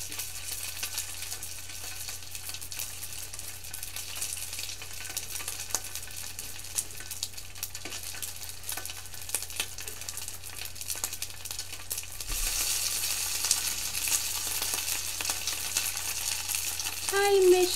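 Food sizzles steadily while frying in a pan during a cooking session for cheese-filled onigiri, miso soup and dango, a constant hiss that grows louder near the end, with faint clinks and light stirring.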